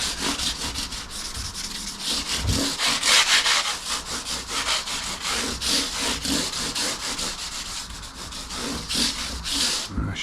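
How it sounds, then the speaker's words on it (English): Guitar frets on a Squier Fender Stratocaster are rubbed down to strip off grime, producing a close, continuous rhythmic scrubbing with quick back-and-forth strokes, steady and moderately loud with no talking. "just give the frets a little rub down"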